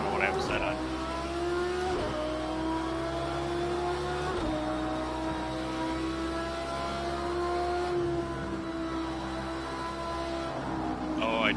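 Race car engines in the video game Project Cars 2, Indy cars at Daytona, drone steadily and loudly with shifting pitch through the whole stretch, with brief gear-change dips and a person talking over them.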